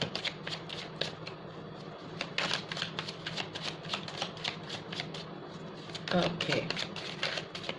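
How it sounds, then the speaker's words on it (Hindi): A deck of tarot cards is shuffled close up in a quick run of crisp riffling flicks and soft slaps, with someone speaking quietly over it. "This will be the last shuffle."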